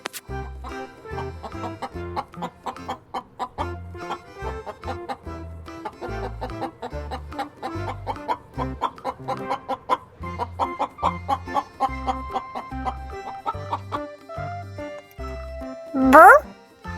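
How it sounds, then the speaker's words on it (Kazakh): A chicken clucks in quick, steady repeated bursts, close and clear over a light rhythmic music bed, ending with a brief higher squawk. "Бұл тауық"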